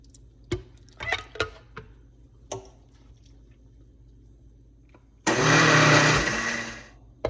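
A few soft knocks and clicks, then a blender whirs loudly for about two seconds before winding down.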